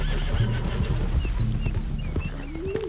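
A horse whinnies in Red Dead Redemption 2 amid clip-clopping hooves and a dense game soundscape, the neigh rising and wavering near the end over steady low rumble.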